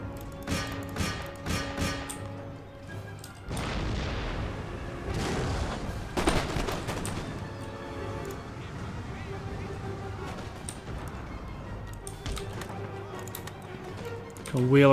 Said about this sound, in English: get those muskets firing